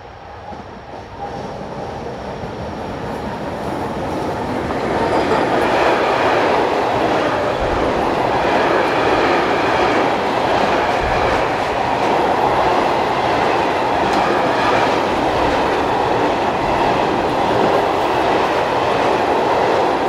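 A Czech Railways Class 122 locomotive heading south along the Elbe valley line, a rising then steady loud rumble of wheels and rail clatter as it passes close by, with no voices.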